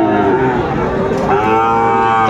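Young bull calves at a Kushtia cattle market give a loud, sustained moo close by, with a faint crowd hum behind.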